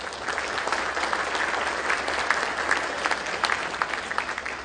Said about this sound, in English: Please give yourselves a round of applause and thank you for your service.